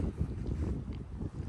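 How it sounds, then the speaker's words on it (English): Steady wind at night in Ecuador, a low rumbling buffet against the microphone, moderately quiet and continuous with no voices. "It's definitely still windy here"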